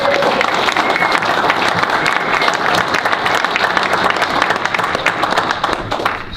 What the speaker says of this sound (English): So I'd like to have some applause for that.